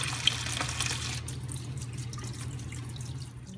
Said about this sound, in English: So I just fill a deli container with water